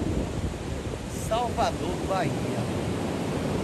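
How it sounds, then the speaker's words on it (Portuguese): Sea surf at Praia do Flamengo beach in Salvador, Bahia, a steady broad wash of waves and wind rumbling throughout, with a person talking briefly over it. "Olha que mar aqui, gente."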